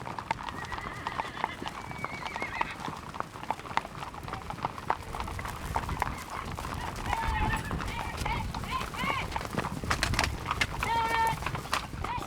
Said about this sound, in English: Horses are in a hurry, and there's lots of galloping